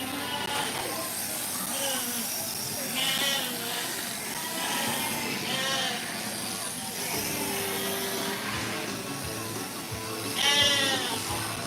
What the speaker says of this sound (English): You can kind of hear all the other sheep going by.